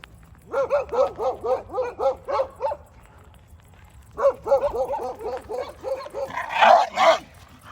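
Street dogs and an American Staffordshire Terrier bark in rapid repeated bursts close by, pausing briefly before another volley of barks and yips, rising into excited whining at the end.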